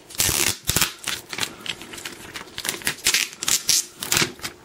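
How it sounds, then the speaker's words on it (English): Protective plastic being peeled off a new Apple iPad 2, heard as a close run of loud, dry crackling and crinkling bursts in quick succession, with no talking. "we'll take the plastic off"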